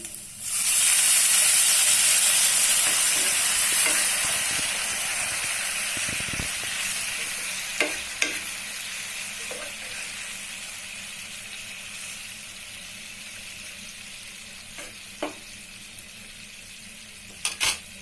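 Water poured into a hot pan of chicken masala for Maggi noodles bursts into a loud, steady sizzle that slowly fades, with a few faint clinks of utensils.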